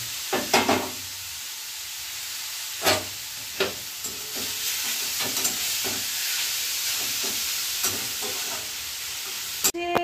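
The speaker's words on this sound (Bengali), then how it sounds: "এবার গাজরটা দিয়ে এটাকে মানে ভাজা ভাজা করে নিতে হবে গাজরটাকে" Carrots being fried in a pan for carrot halwa hiss and sizzle steadily, broken by several sharp spoon knocks and scrapes against the pan.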